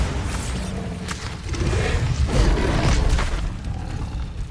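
Bombarda spell explosions from Hogwarts Legacy gameplay, a series of deep booming blasts with whooshing bursts and rumbling debris, loud and close, with no talk.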